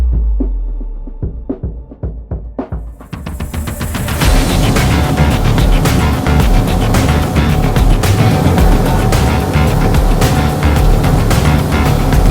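A Bluewater 25T boat's engine climbs from spaced throbbing pulses into a loud, steady roar as it runs on plane across a busy bay, with heavy wind and water rush.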